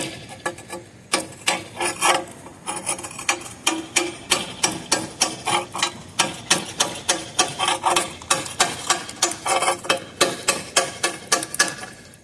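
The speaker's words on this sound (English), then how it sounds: "So I'm chiseling off the worst." Kiln wash being chiseled off a ceramic kiln shelf: a steady series of sharp scraping, rasping strokes in a fairly even rhythm, close and clear, with no talking.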